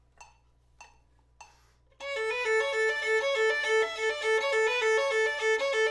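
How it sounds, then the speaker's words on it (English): Violin passage work at 100 bpm: three soft taps of a count-in, then a steady run of quick, evenly spaced bowed notes climbing and falling, clear and close. "If I bump it up to 100, it's going to sound like this."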